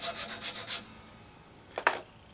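Quick rasping strokes of a file through the nut slots of an Enya X4 Pro guitar, a rapid burst of about six scrapes followed after a pause by two more short strokes, close and clear.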